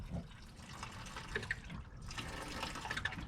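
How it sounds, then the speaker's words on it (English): Old coolant drains from a Ford Ranger 3.0 radiator, a faint steady trickle and splash of liquid pouring into a pan, with a few small drips, no talk. "Got the reservoir open here, got the radiator open there, and pull the plug off here. As you can see, it's draining."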